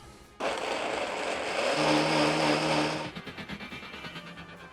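A blender purees cashews and water, starting abruptly with a loud, steady whirring roar that holds for under three seconds, then cuts out and winds down in a pulsing rattle.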